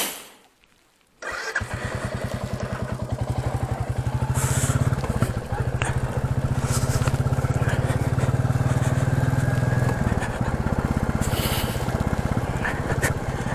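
A Royal Enfield Classic 350 motorcycle starts up after a quiet moment and settles into a loud, steady single-cylinder thump that runs close and unbroken to the end.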